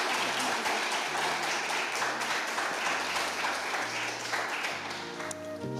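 Audience applause at a live poetry slam, a dense steady clapping that fills the room and holds for several seconds, thinning slightly toward the end while some music tones sound beneath it.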